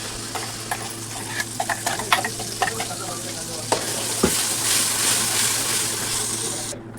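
A steady sizzle as a ground paste is added to a hot pan for chole, with a few clicks and scrapes of stirring early on, rising to a broad hiss toward the end.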